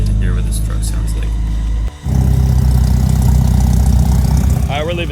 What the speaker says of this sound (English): you guys are really going to get to hear what this truck sounds like